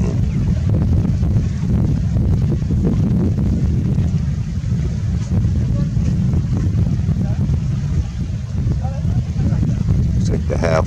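Steady wind blowing hard across an open roadside near Bayport, a loud, constant low roar buffeting the microphone throughout.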